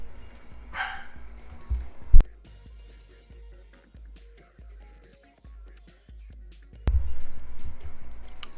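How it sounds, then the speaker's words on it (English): A bored pet dog barks in a home, sharp isolated yips and barks scattered between quieter stretches, with one loud bark standing out and a burst of louder activity near the end. "Dog is barking because she's bored and it's pissing me off."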